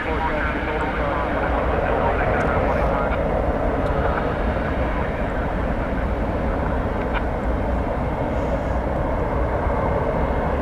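An American Airlines Airbus A321neo taking off at night from DFW Airport, bound for Mexico City, makes a steady, loud jet roar that holds evenly for the whole stretch without fading.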